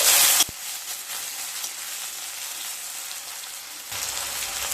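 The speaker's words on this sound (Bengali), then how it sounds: "আলুগুলোকে একটু নেড়ে নেব।" Sliced potato is stirred in a pan of hot oil with nigella seeds, giving a close, steady sizzle. A louder burst of spatter at the start drops back to a softer fry, which swells again near the end.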